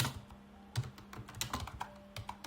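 Fairly quiet, irregular typing on a computer keyboard as a short description is entered, with soft clustered keystrokes and no talking.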